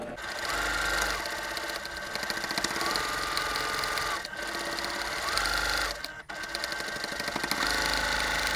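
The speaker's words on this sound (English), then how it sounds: "at the machine, ready to stitch the two sections together" A sewing machine stitches two quilt block sections of a diamond four-patch block together, running in a fast, steady whirring chatter that continues without pause, with a brief dip near the end.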